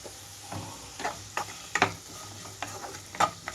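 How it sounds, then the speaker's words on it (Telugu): Sliced onions and green chilies with a pinch of salt frying in hot oil for an egg curry, a steady soft sizzle broken by repeated spoon-scraping strokes, close by. "ఆయిల్ అంతా హీట్ అయిన తర్వాత ఉల్లిపాయలు, అలాగే పచ్చిమిరపకాయలు వేస్తున్నానండి."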